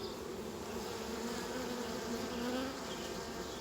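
Honeybees buzz and fan pheromone around a hive during swarm and nuc work, a steady, dense, close drone holding without a break.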